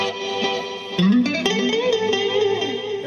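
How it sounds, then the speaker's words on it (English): An electric guitar plays through a Fender Super Sonic amp on its Vibrolux channel with chorus, delay and reverb, a few sustained, shimmering notes and bends ringing out and trailing off in echoes. "You got some chorus, you got a little delay, and you got some reverb"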